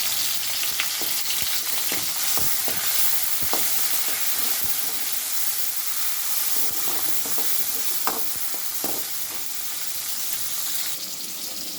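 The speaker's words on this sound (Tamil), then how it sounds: "தக்காளி வெங்காயம் பச்சை மிளகா எல்லாத்தையும் வந்து போட்டுக்கிறோம் இதை வதக்கிட்டுக்கலாம்" Tomato, onion and green chili sizzle and crackle steadily in a hot pan, with occasional clicks and scrapes of stirring over the constant hiss.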